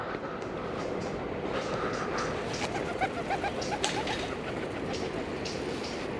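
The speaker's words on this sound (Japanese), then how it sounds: "なんなんだこの鳩は。" Pigeons crowding close outdoors give soft, low coos that recur in short bursts over steady background rumble, with no talking.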